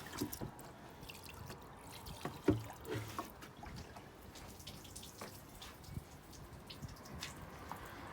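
The last of the water trickles and drips from the scuttle drain holes of a VW Caddy Mk2 1.9 SDi, faint and irregular against quiet background hiss.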